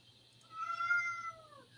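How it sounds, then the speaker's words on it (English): A cat lets out a single drawn-out meow, clear and fairly close, rising then falling over about a second against quiet background. "I think they hear that cat and he's trying to figure out where it's at."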